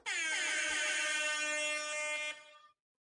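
A loud, sustained air horn blast sounds for about two and a half seconds as a single steady blare, then cuts off abruptly into silence.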